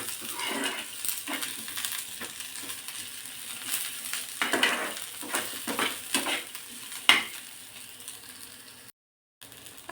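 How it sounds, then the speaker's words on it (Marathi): Finely sliced onion fries in hot oil in a home kitchen for a spicy amti, giving a soft continuous sizzle with repeated scraping and stirring knocks from a spoon against the pan, close and moderately quiet. "आता हे सुद्धा या तेलावरती खमंग परतून घ्यायचं आहे।"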